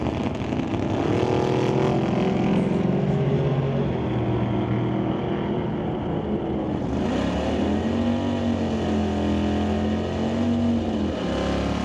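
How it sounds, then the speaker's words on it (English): Drag racing cars, a Ford Falcon and a Ford Ranchero, on a test-and-tune drag strip. The engines roar loudly and continuously for the whole stretch, rising and shifting in pitch as they accelerate. "Dustin driving the Ford Falcon, and Bill driving the Ford Ranchero."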